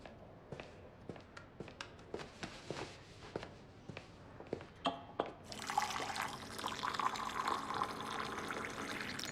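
Water is poured while tea is being made indoors: a run of soft footsteps leads into a steady, splashing pour that fills the last few seconds, close and moderately loud.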